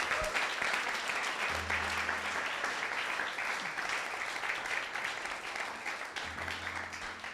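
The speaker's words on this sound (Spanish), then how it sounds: "Vamos a darle un aplauso al Señor por las situaciones adversas." A church congregation applauds loudly and steadily throughout, a dense wash of clapping with a faint low hum beneath it.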